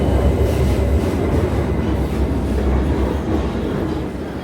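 A London Underground Victoria line train runs at speed, a loud continuous low rumble with rattling wheel noise that fades slightly near the end, with no voices.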